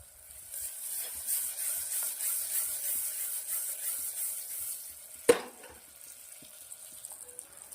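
Curry leaves crackle and sizzle in hot oil for sprouted moong pulao, a fairly soft steady fry with small pops, broken by one sharp clatter midway before the sizzle settles lower.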